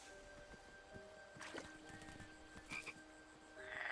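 Frog croaking in King's Quest, a frog with a number 8 on its back, giving a couple of soft, short croaks over a quiet, faintly humming game background, no talk.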